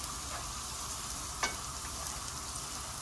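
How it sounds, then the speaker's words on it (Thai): Garlic frying in a pan for Thai salt-and-chili shrimp, a steady close sizzle with one brief scrape of stirring partway through. "เจียวกระเทียมให้ให้สุก"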